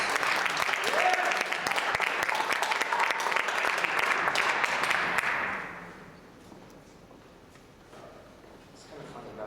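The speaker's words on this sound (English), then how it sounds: "So let's give him a big round of applause" A live audience gives a big round of applause for a guest, dense steady clapping for several seconds before it dies away, leaving quiet room tone.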